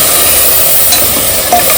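Masala fries in a pan while being stirred for aloo senagala curry, making a loud, steady sizzle with a brief scrape of the spoon near the end.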